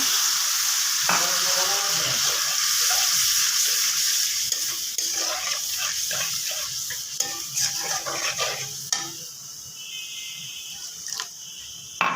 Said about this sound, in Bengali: দিয়ে দেবো পানি